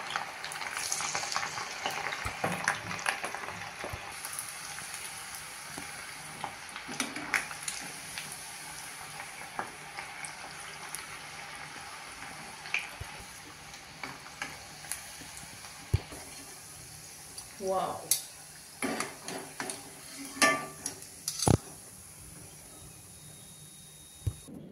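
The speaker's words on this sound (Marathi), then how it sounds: "पहिल्यांदा एकदा तेल तापवून घ्यायचं आणि नंतर लो टू मीडियम गॅसची फ्लेम ठेवायची आणि पकोडे तळायचे" Sweet corn pakoras deep-fry in hot oil over a low to medium flame, giving a steady crackling sizzle for the whole stretch. Occasional sharper clinks and pops from a utensil and the pan rise above it.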